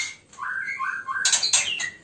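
White-rumped shama (murai batu) chicks, twelve days old and just out of the nest box, give a few close, thin rising whistled chirps, with a burst of brighter overlapping calls near the end.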